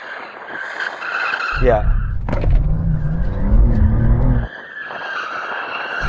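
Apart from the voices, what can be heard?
BMW M2 car drifting with tyres skidding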